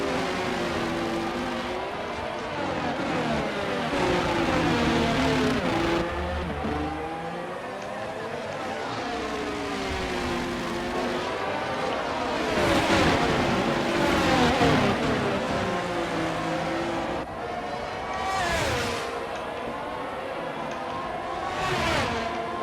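A Red Bull F1 car in F1 22 at the Bahrain Grand Prix, howling engine notes sweeping up and down through gears as it closes in and passes, with cars loud and continuous and a person talking under it.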